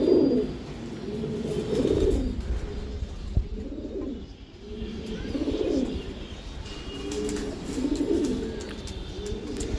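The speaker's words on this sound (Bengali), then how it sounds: "এসব পুরান জাতের কবুতর।" High-flying Giribaz racing pigeons of an old breed coo in soft, repeated rolling phrases close by, steady and unhurried, with faint chirps and rustling in the background.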